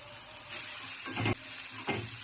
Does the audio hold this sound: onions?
yes